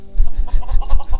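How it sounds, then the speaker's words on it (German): A chicken in the Minecraft video game gives a quick run of loud, close clucks in a steady pulsing rhythm, with no talking. "Da ist ein Huhn auf dem Ofen gegangen."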